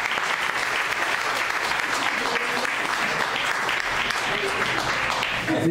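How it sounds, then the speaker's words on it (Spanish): A church congregation gives an offering of applause during a sermon, a thick and continuous wash of clapping from many hands that holds steady and full for several seconds, with faint voices mixed in. "Denle una ofrenda de palmas"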